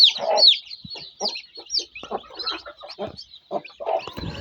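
Native country hens cluck alongside a crowd of newly hatched chicks, whose high, rapid peeping runs in quick bursts over the hens' lower clucks. The sounds are close, busy and overlapping, with no voices.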